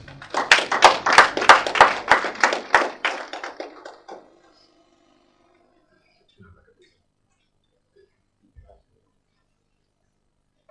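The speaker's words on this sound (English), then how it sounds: "Give him a big round of applause." Rhythmic clapping at a blockchain conference, about a dozen close, evenly paced claps in a burst lasting roughly four seconds, then near silence with only a few faint thumps.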